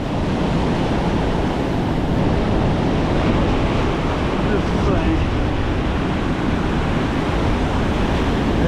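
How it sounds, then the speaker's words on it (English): Surf at Bondi Beach rolls in with a constant broadband roar, mixed with wind buffeting the microphone, loud and unbroken throughout. "The tide's coming in."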